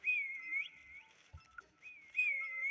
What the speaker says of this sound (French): je vais remettre un petit coup de sifflet quand c'est 15 secondes